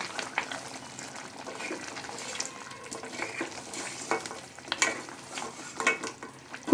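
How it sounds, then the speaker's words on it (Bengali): Garam masala paste is stirred into simmering mutton paya curry, with soft irregular scraping and gentle sizzling bubbles, close and fairly quiet, with no talking. "খুব ভালো করে নেড়ে চেড়ে গরম মশলাটা ঝোলের মধ্যে মিশিয়ে নেব"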